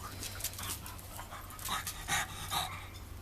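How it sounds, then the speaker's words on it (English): A puppy pants hard in quick, close, breathy bursts of uneven loudness, with a low electrical hum underneath and no talking. "It's Mozzie, who's breathing so hard."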